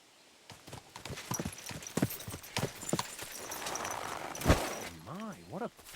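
A horse in Kingdom Come Deliverance 2 walks with a steady, close clip-clop of hooves, and voices talk over it before the hoofbeats pause.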